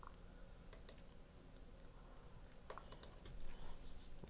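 A few scattered keyboard keystrokes while entering a new Google username, faint and close over steady room hiss, with no talking.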